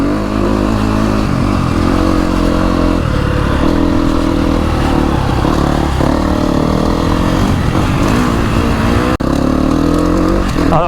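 A motocross bike at a track in Trofarello, Italy revs hard and steadily for the whole stretch, a loud, close, continuous engine roar with rising and falling pitch, and only a brief dip near the end.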